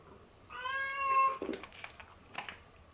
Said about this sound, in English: Big Ear's meowing. I think he's hungry